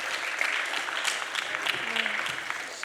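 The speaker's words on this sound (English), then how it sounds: "Can we give them another round of applause," An audience claps for the members of a panel at the close of a panel discussion session, a steady, moderately loud patter of many hands that holds for the whole stretch.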